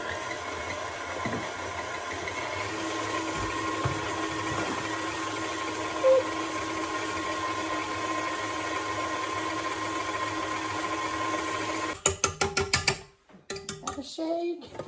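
A blender whirs through a final spin of lemon balm cheesecake filling, a steady motor drone for about twelve seconds that cuts off into a few clattering knocks.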